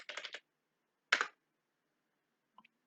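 Computer keyboard typing, a quick cluster of close clicks followed by one short burst of keystrokes and a faint final tap, with silence between.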